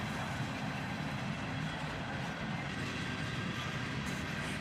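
A slow-moving CSX freight train with old boxcars, including a GATX boxcar at the tail end, rolls steadily past close by, a continuous low rumble of wheels and cars with no voices.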